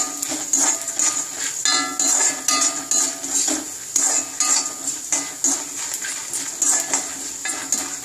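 Coriander seeds and grated coconut being dry-roasted in a metal pan, with a spoon repeatedly scraping and clinking against the pan in an uneven stirring rhythm, close and clear.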